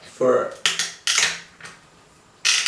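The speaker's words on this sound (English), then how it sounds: "So now we're just going to spin the knife around, creating a nice" A kitchen knife is twisted round to bore a hole through a plastic cap for a homemade plant CO2 dispenser, giving several close, harsh scraping and clattering bursts separated by short pauses.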